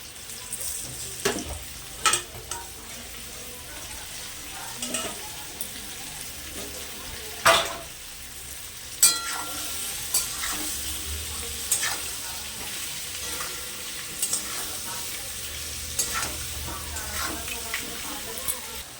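Steady sizzling of potatoes and onions frying in oil, with occasional scrapes and clinks of a spatula stirring the pan.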